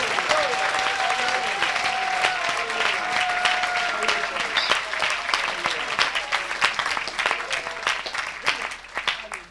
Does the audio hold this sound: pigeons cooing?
no